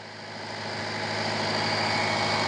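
A Toyota Etios engine idles steadily close by, a continuous mechanical hum that swells slightly louder as it goes.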